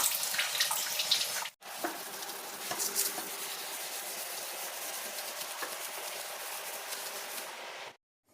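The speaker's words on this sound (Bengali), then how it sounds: "এখন বেসিন টেসিন সব পরিষ্কার করে নিচ্ছি" Tap water runs steadily into a bathroom basin during cleaning, a close continuous splashing hiss that stops briefly once and cuts off again near the end.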